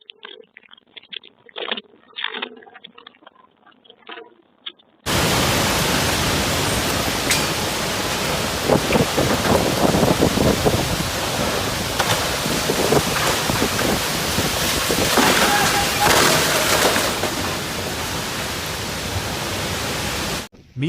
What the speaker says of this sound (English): The leading edge of the storm brought strong outflow winds, followed by bursts of rain and frequent lightning